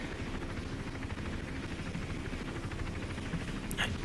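A police helicopter in Hitman Absolution whirs steadily through the whole stretch, a continuous low rotor drone under the game's ambient noise, with a brief brighter burst near the end.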